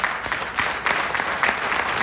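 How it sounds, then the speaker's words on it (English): Audience applause for Stephen on stage, steady close clapping with rhythmic surges throughout, no talk over it. "We shall give Stephen a round of applause first."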